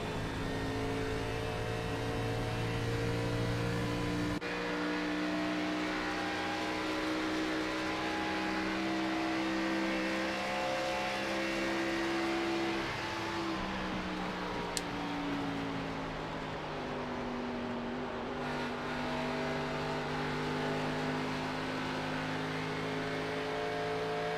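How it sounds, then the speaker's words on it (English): Onboard race car engine holding steady high RPM through corners at Pocono in a sports racing series event, with a continuous loud drone whose pitch dips and climbs gently through long arcs, close and dominant. "It sounds pretty solid RPMs all the way through."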